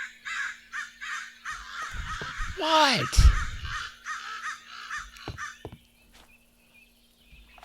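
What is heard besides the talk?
crow cawing in Minecraft video game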